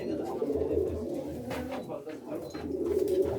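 Pigeons in a loft coo in low, repeated throaty bursts at close range, with someone talking over them throughout.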